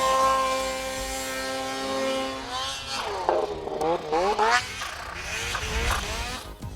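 A supercharged snowmobile engine revs up in bursts among the trees, rising and falling in pitch after a steadier tonal drone, loud and close with no talking.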